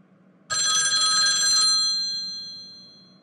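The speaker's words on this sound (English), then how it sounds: "Another phone call." A telephone bell rings once, a loud bright metallic trill that starts abruptly, holds for about a second and then rings out slowly into quiet.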